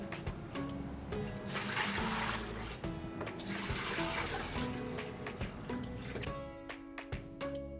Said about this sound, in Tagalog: Rinse with cold water.